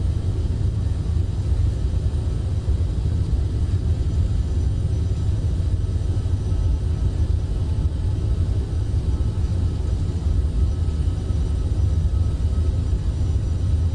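Iberia CRJ 1000 twin jet engines roaring steadily through the takeoff roll from Madrid, a loud continuous low rumble with hiss, heard from inside the cabin, no one talking.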